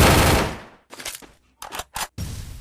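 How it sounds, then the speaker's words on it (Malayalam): MP5 gunfire in the video game Free Fire: several loud, close bursts of rapid shots separated by short silences, the first burst the longest. "ഞാനിപ്പോൾ എത്ര വെടി വെക്കും?"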